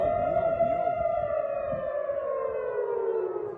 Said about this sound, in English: Air sirens and bombs could be heard throughout Israel on Tuesday